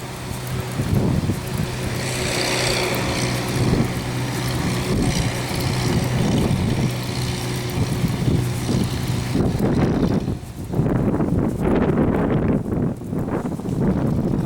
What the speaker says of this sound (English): That was a lawn tractor passing by.